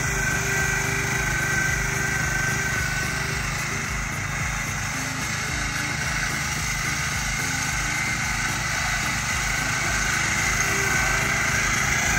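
A small upgraded 8.5 horsepower engine, being tested with a new gearbox head for a small farm vehicle, runs steadily for the whole stretch with a constant buzzing drone and no talk over it.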